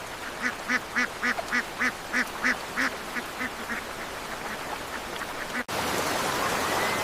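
Ducks stranded in village floodwater give a run of loud, evenly spaced quacks close by, which thin out and stop, leaving a steady wash of water and rain noise.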